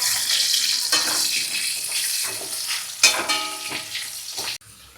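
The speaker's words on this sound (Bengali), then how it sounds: "দিয়ে এটা ভালো করে ভাজা হচ্ছে আলুটা" Potato pieces fry in hot oil with a little salt and turmeric. A steady, loud sizzle runs throughout with scraping stir noises, then quiets near the end. No one speaks.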